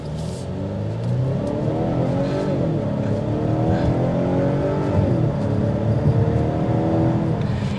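A 2023 Volvo V90 Cross Country wagon accelerates hard from 0 to 60, its engine note climbing steadily through rising harmonics with gear changes, loud and continuous from start to finish with no talking.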